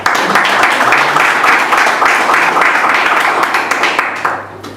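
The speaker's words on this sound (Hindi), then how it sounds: "तो ताली बजाओ, जोर से बजाओ।" A congregation at a prayer fellowship meeting claps loudly and steadily throughout, with dense applause that holds strong before thinning toward the end.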